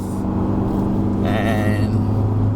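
A 2021 Isuzu D-Max X-Terrain pickup engine pulls hard out of a sharp bend on a hill road at Genting, giving a steady, close rumble beneath continuous talking.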